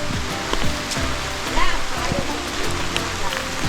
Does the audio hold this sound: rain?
yes